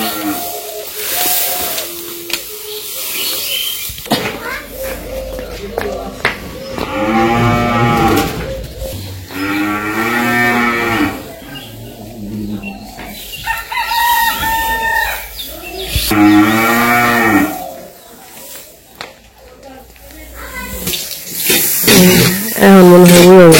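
A cow on a foggy winter morning in a rural village lets out several loud, drawn-out moos close by, spaced across the stretch, with a rooster crowing faintly in between and no speech.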